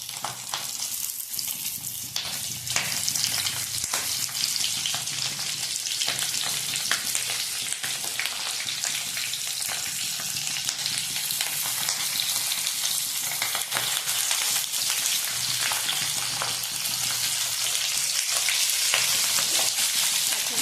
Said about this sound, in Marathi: दोन चमचे तेल घातले मी आता ह्यात आपण मिरची भाजून घेऊ